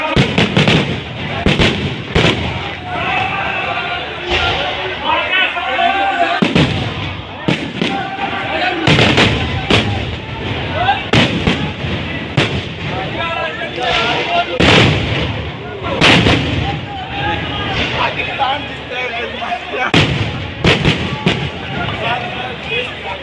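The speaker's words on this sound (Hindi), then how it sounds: "सक्कर के अंदर जो है बहुत बड़ी आतिशबाजी हो रही है।" Loud bursts of a large fireworks display in Sukkur, Pakistan crack and boom repeatedly in quick, irregular succession, with crowd voices murmuring underneath throughout.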